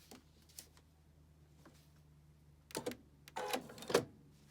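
A sewing machine stitches a fabric project box in short bursts, with a few quiet clicks and then two or three louder, close runs of rapid mechanical whirring near the end over a low hum.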